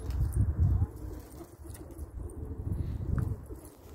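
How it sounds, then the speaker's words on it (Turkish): Pigeons, including tumbler breeds, coo in a rooftop coop overlooking Ankara, several birds making low rolling calls close by, with soft rustling and no talking. "bizde her çeşit kuş var arkadaşlar"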